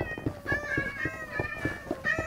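Several cats meow in the Minecraft video game, soft repeated mewing calls overlapping in a busy cluster, fairly faint and continuous with no one talking over them.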